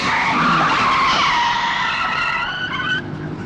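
Car tires skidding under hard braking, a loud sustained screech that bends downward in pitch over a few seconds before cutting off, with faint road noise after and no voices.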